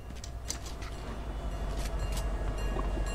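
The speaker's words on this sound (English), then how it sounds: "Ooh, there's a train." A train rolls past in the Fortnite video game, a continuous low rumble with faint clicking and clattering layered over it, steady and moderately loud at mid distance, with no voices.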